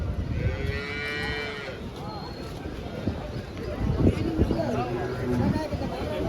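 A cow moos loudly and drawn-out near the start, then people talk over outdoor cattle market noise with a few fainter lowing sounds, at Malegaon in Nashik district, India.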